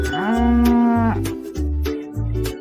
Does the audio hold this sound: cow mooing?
yes